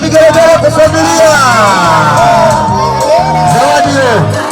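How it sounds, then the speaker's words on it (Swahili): Crowd at a family celebration in Nyarugusu camp, with voices raised in loud, sustained whooping and ululation over dense babble and singing, full and close throughout. "piga vigelegele kwa familia"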